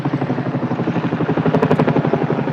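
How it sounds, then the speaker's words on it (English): A large twin-rotor Chinook helicopter passes overhead, loud and close, its rotors thudding in a fast steady rhythmic beat throughout. "I wonder if that's going to be one of those Chinook helicopters flying over my head."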